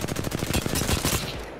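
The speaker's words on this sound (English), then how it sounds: "shooting while you're bunny hopping" Rapid automatic gunfire from an Apex Legends weapon while the player bunny hops, a quick rhythmic string of close shots lasting a little over a second, alone without talk.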